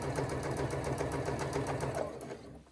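A sewing machine runs a continuous, rapid stitching buzz while basting around the outside edge of a crossbody bag, steady and close before trailing off at the end.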